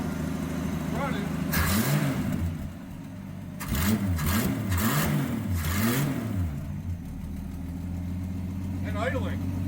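Engine of a 1969 Ford Falcon, parked since 1985 and bottle-fed fuel through the carburetor, running rough and revving in several rising and falling bursts before settling to an idle, heard close.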